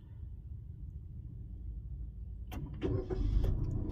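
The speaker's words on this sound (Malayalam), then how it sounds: "ഇപ്പോൾ നമ്മുടെ വാഹനം സ്റ്റാർട്ടായിട്ടുണ്ട്." A Suzuki car starts by remote command: a steady low rumble runs throughout, then a brief starter crank and the engine catching into a fuller idle, heard close with no talk.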